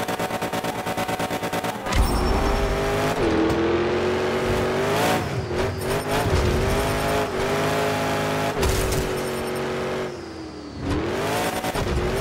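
Monster trucks race in the Monster Jam Showdown video game, their engines roaring and revving loudly and steadily for the whole stretch, with pitch swells as they accelerate and no talking over them.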